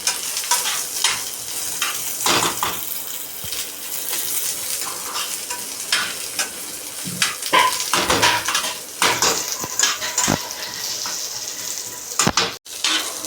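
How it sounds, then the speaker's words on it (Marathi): Onion frying in a pan until brown for a drumstick masala curry, continuous sizzling with irregular spatula scraping and clinks against the pan, close by, and a sharp knock near the end. "कांदा ब्राऊन होऊन द्यायचा आहे जास्त पण भाजायचा नाही"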